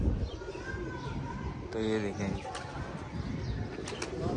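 Pigeon coos and faint wing flutters sound under a man's ongoing speech, mixed with outdoor background noise.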